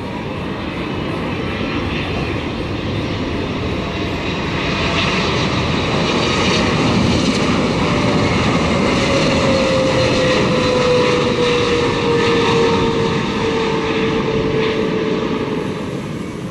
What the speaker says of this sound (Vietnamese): Boeing 777-300ER của EVA Air. Chiếc máy bay đang thực hiện hạ cánh xuống đường băng 25 phải sân bay Tân Sơn Nhất.